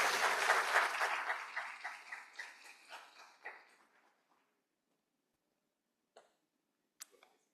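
A conference audience applauds to welcome a speaker: brisk clapping from many hands fades out over about four seconds, followed by silence broken by a few isolated sharp claps or clicks near the end.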